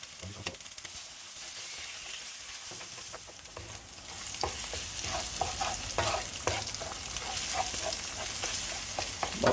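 Eggs fry and get stirred in a hot pan for pineapple Thai fried rice: a quieter sizzle at first, then louder crackling with repeated sharp spatula scrapes and taps, close and without talk.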